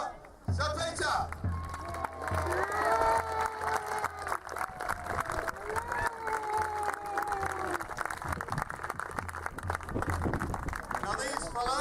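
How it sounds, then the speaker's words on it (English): A crowd applauds and cheers at a medieval fair joust at Pendennis Castle, with steady clapping and whoops filling the clip while an announcer talks over it. "A great round of applause for Sir Joseph and his squire, Sir Peter"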